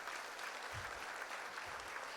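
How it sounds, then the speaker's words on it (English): An outdoor crowd claps steadily at an elementary school groundbreaking ceremony just after the ceremonial dirt is turned, continuous moderate applause with a couple of soft low thumps underneath. "How about a round of applause?"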